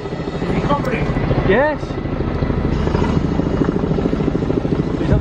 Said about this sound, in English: Is that an emergency helicopter or something?